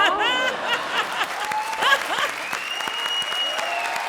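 Studio audience applause on a comedy show stage, a dense burst of clapping with a few whistles and scattered chuckles running steadily throughout at moderate loudness.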